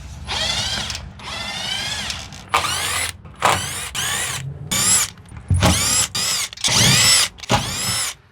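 A power drill removes screws from a fly-screen door, whirring in short bursts, revving up and down repeatedly with brief pauses between, close and fairly loud.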